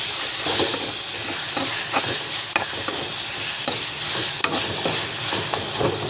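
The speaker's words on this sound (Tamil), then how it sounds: "கொட்டிட்டு இதை நல்லா அப்படி வதக்கி விடணும்" Tomatoes sautéing in a hot pan for Tamil kara kuzhambu with sepang kilangu, a steady loud sizzle broken by repeated scraping strokes of a ladle as the mixture is stirred, with no voices.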